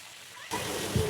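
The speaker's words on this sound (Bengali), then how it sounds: "এই যে মাছ ভাজা হয়ে গেল, তো আমি একটু উল্টে দিলাম।" Fish sizzling in a frying pan right after being flipped, a sudden burst of hissing, spattering oil that jumps up from quiet and keeps crackling steadily at close range.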